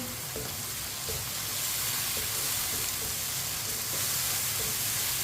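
Chopped tomatoes and green chilies are stirred in a hot pan, giving a continuous soft sizzle with faint scraping and clicks of a spoon throughout, and nobody speaking.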